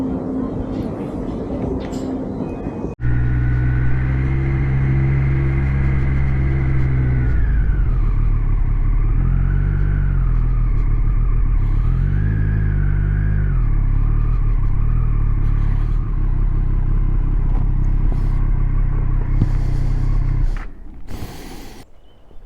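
A Triumph Street Triple motorcycle rides along a road in Dartmoor, its engine a loud, close, sustained drone that rises and falls in pitch with throttle and gear changes, with wind rush and no talk until it cuts off near the end.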